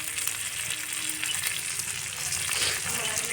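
Fish frying on a flat pan, a continuous close hiss and crackle of oil at even loudness for the whole stretch, with no voices.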